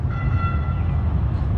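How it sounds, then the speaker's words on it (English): A train rolls past in downtown Calgary, a loud, steady low rumble of wheels with a drawn-out tonal squeal or horn-like whine riding on top, close and continuous for the whole moment. "there's another train."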